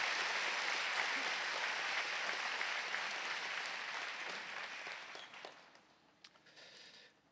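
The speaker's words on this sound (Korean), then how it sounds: "여러분 다시 한번 크게 큰 박수 감사를 표하시기를 바랍니다" A room full of people at a church prayer meeting claps steadily, the applause fading gradually toward the end with a few last scattered claps.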